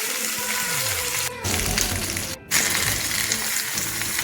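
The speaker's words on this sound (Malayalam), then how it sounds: "ചട്ടി ചൂടാകുമ്പോൾ എണ്ണ ഒഴിച്ചു കൊടുത്തിട്ട് വാഴയില വെച്ച് മീൻ കറക്കി വെക്കണം." Sardines frying in hot oil on a banana leaf laid in a pan, a loud, steady close sizzle and crackle with brief dips, no talking.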